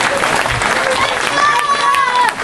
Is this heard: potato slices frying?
no